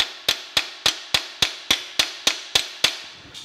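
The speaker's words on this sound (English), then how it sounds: "I'm gonna finish driving this in with just a regular hammer" Ten sharp, evenly spaced hammer blows drive a replacement feed-side control handle part onto a K&T 3H milling machine. Each strike rings briefly and metallically, close and loud, with no talking.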